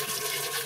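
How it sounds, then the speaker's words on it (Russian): Water pouring steadily into a NEFOR-16 home autoclave filled with jars of river fish, a continuous close rushing splash with no talk. "У нас пошел процесс наливания воды."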